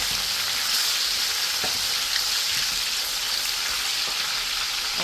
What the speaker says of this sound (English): just go ahead and fry the onions.